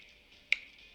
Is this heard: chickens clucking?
no